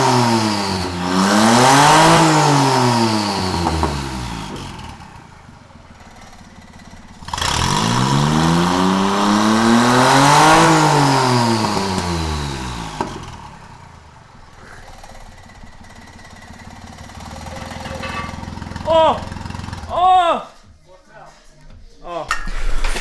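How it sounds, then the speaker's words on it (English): Twin-charged Geo Metro rally car engine, fitted with both turbo and supercharger, starting for the first time on the turbo: two loud rising-and-falling revs, followed by a quieter idle and a few sharp blips near the end. "First start on the turbo was a success."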